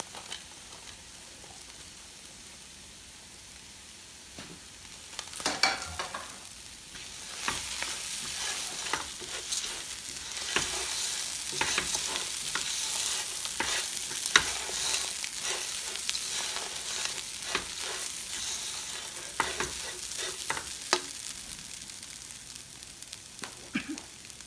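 Onions and batata kanto potatoes frying in a pan for smoked Cajun rice, a steady sizzle with repeated stirring scrapes and clinks that grow busier after the first few seconds, with no talking.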